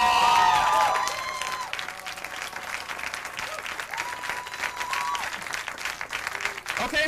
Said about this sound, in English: Wow, spontaneous applause